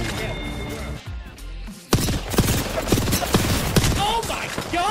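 Rapid video game gunfire crackles in dense bursts after a brief lull, loud and close, with sharp shots repeating over the last three seconds while excited voices talk over it.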